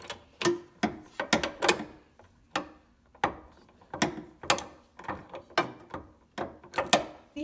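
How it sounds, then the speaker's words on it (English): A hand ratchet snugs up bolts while refitting a windshield wiper assembly, giving repeated bursts of sharp close clicking in an uneven rhythm, with short pauses between strokes and no talking. "So now we need to get the ratchet and tighten it up or snug it up."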